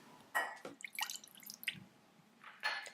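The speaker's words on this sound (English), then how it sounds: "Prepare a small saucepan, and we're going to pour in the milk" Milk is poured into a small saucepan for holiday wreath bread, heard as a few soft splashes and drips in short bursts, close and quiet, with no talking.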